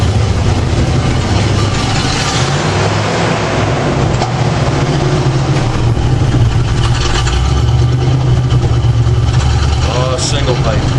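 A 1970 Chevrolet Camaro idles steadily with a low, continuous engine and exhaust rumble from its single tailpipe, heard close up for the whole stretch with faint background noise.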